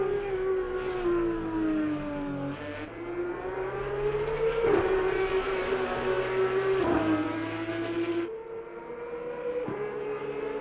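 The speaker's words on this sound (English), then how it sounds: "bouncing the Porsche over the curbs there" Porsche race car engine in Assetto Corsa Competizione on the Nürburgring GP circuit, a loud sustained whine rising through gears with several shift drops, bouncing over curbs, heard alone without talk.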